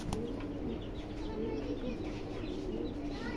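A pair of fancy pigeons, male and female held in hand, coo in soft repeated low warbles, close but quiet, over a steady background hiss.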